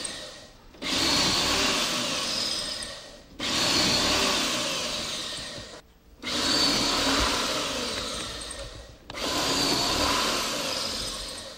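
A power drill drives pocket hole screws into wood trim in four long whirring bursts, each a couple of seconds, separated by short pauses, loud and close.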